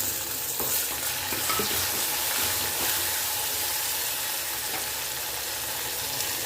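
Tomatoes fry in a pan with green chillies and sambar onions, giving a steady, close sizzle and crackle with occasional stirring scrapes, continuous throughout with no talking.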